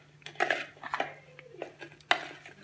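A spoon clinks and scrapes against a bowl while chutney is mixed into crispy cauliflower pakoras, giving a few sharp, close metallic taps spaced irregularly over a quiet background.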